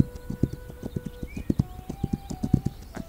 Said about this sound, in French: on va faire avancer discrètement avec un cheval